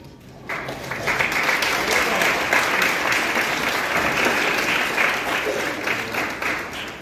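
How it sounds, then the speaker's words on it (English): An audience at an awards event gives a round of applause to past honorees standing in the room, a loud, full burst of many hands that starts abruptly and holds steady with crowd noise and a voice beneath it. "would you please stand so we can give you a round of applause?"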